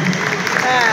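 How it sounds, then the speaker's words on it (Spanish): A crowd at a boxing event in La Maruja gives a dense, continuous wash of applause and ovation, loud and steady, with a commentator talking over it. "el aplauso y la ovación del público"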